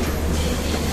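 Train at New Delhi railway station, a steady loud rumble with a low mechanical roar and faint rattling, continuous and close for about a second.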